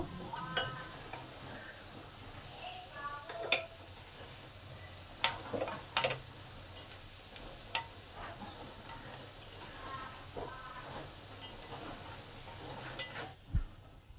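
Jackfruit kofta balls fry in mustard oil, giving a soft, low hiss broken by scattered faint pops and crackles over about fourteen seconds, with no voices.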